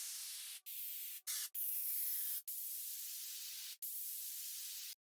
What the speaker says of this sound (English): Now some downlifters.